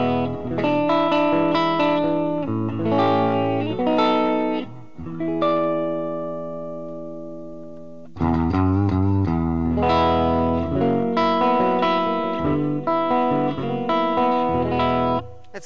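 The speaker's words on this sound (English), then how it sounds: "Let's go heavy on the reverb so you can have a listen." Electric guitar chords and single notes through a Big White Monkey Chimp MK3 combo amp's valve-driven reverb ring drenched, with a long decaying tail mid-clip before strumming resumes, loud and close.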